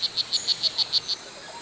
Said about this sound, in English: the male's approach to courtship seems to be the same as the cicadas.